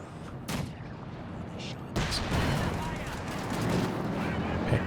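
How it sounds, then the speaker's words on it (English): Mortar shells burst repeatedly in a Company of Heroes 2 battle, a steady barrage of booming detonations and gunfire crackle, with a sharp loud hit near the two-second mark and a dense, continuous rumble afterward. "And just continuously getting bombed on by these mortars as he tries to cap in the middle."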